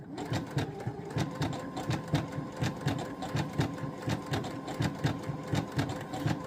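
A sewing machine stitches a shirt hem in a rapid, steady mechanical whir with a fast rhythmic needle clatter, close and fairly quiet, with no one speaking over it.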